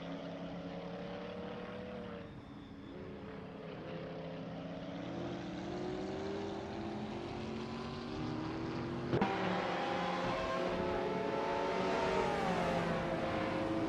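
Hypercars racing in a video game simulator, a sustained engine drone with sweeping pitch shifts as cars pass and accelerate, fairly steady and moderately loud with a sharper surge midway.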